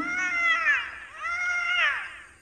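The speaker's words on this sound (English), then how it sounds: "It sounds like someone's crying." A cartoon creature lets out two drawn-out, wavering wails like a cat's meow, close and fairly loud, with no talking around them.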